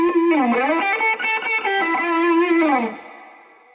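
A mildly overdriven electric guitar through a Boss Blues Driver low-gain pedal plays a short melodic phrase with bends, gritty but warm, then a sustained note rings out and fades.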